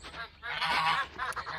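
Geese in a pen honk loudly and close by, a few overlapping nasal calls in quick bursts, with ducks kept alongside.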